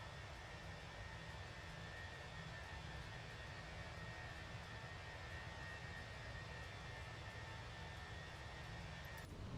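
Airbus A320 jet engines in Microsoft Flight Simulator climbing after takeoff, a steady low roar with an even whining hum, continuous and unchanging throughout, quiet overall with no voices.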